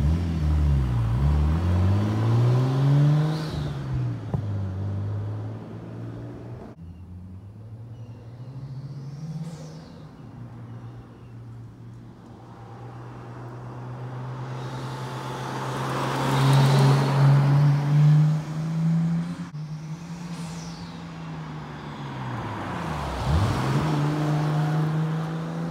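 A Nissan Skyline GTST driving through corners: engine revs rise and fall as the car passes close, fades away, then sweeps back through again, with loud rumbling swells and no talking.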